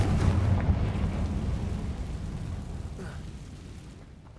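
A fiery explosion from a Confringo spell in a video game booms loud and close at the start, then fades into a deep, rolling rumble over several seconds.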